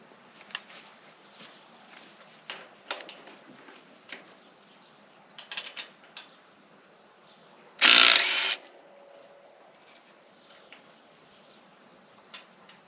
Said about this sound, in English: cordless impact wrench.